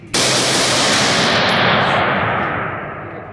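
A handgun fires in quick succession at a 25-yard range during an optic test, producing a loud, dense burst of shots and echo that fills about three seconds and slowly tails off.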